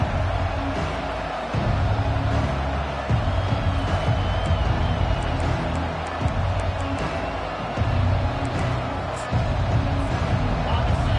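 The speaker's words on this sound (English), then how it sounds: "This crowd bringing an ear-splitting welcome to their visitors." Football stadium crowd at a Texas A&M game roars loudly and continuously, a dense wall of cheering and hubbub with brief surges and dips throughout.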